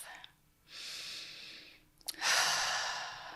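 A slow deep breath drawn in and let out, close and audible, with a long airy inhale followed by a fuller exhale, alone without talking.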